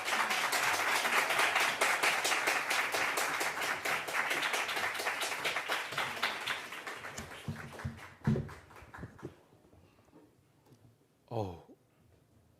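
A church congregation at a Christmas service applauds to welcome their pastor: sustained, fairly quiet clapping that thins out and fades, followed by a few scattered sounds.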